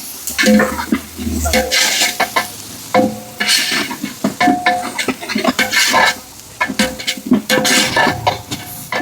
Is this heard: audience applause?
no